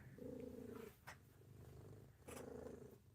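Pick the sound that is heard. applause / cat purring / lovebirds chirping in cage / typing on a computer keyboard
cat purring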